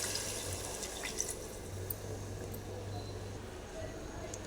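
Water is poured into a cooking pot over sautéed chicken for a seeraga samba chicken biryani, giving a soft, continuous trickling and splashing with a few faint drips over a low kitchen hum.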